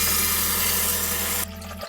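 Water pouring steadily for brewing coffee at home, a continuous hissing stream with a low hum beneath that stops abruptly near the end, leaving quieter room tone.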